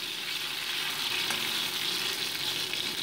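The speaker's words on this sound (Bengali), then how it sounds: "তেলের ওপরে দিয়ে দিচ্ছি প্রথমে কেটে রাখা উচ্ছের টুকরো" Bitter gourd pieces frying in hot oil: a close, dense, even sizzle that runs steadily throughout without talk.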